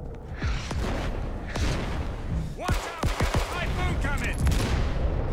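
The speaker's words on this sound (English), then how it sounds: "That was an MP40." MP40 submachine gun fire in the World War II video game Day of Infamy, several short bursts and scattered shots mixed with distant battle noise, loud and close in the middle of the clip.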